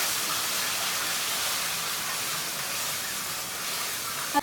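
Chopped onions fry in a pan with steady, even hiss and sizzle throughout, a close constant crackling spray with a small knock right at the end, no voices.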